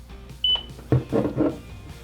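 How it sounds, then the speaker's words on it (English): A single short electronic beep from a 360 AC1C indoor smart security camera after holding its setup button, followed by a few muffled clicks and handling noises nearby. "Press and hold the setup button until you hear a beep."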